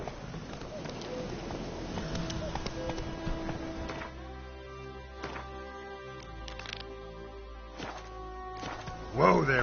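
Hooves of Roach, a horse in a video game, clopping at a walk in an irregular series of soft taps over a steady background hum, with a louder clop at the very end.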